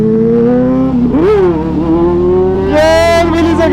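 A motorcycle engine revs loud and close during a wheelie, holding a steady droning pitch before climbing sharply as the throttle opens near the end.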